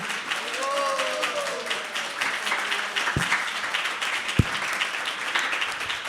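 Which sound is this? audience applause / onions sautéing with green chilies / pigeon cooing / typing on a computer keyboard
audience applause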